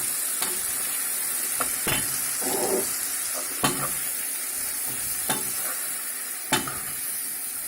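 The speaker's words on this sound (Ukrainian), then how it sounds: "Повністю все в сметані розмішуємо." A gentle sizzle from a frying pan of sour cream runs steadily beneath intermittent scraping and tapping of a utensil stirring, with a few sharper clicks against the pan.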